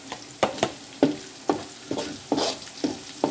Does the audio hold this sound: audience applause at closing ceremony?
no